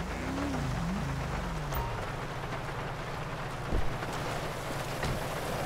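Rain falling in the GTA 5 video game, a steady dense hiss of rainfall that runs throughout, with a low hum beneath and no talking.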